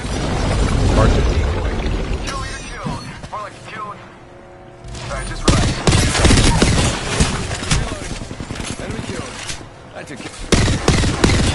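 Gunfire from a battle royale shooter with sci-fi weapons, dense bursts of loud shots and impacts filling most of the stretch, with a brief lull midway, heard under excited voices of players calling out targets.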